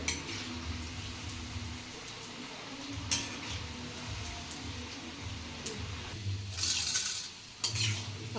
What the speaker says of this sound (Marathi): बघू शकता मंद गॅसवर चांगल्या खरपूस तळायच्या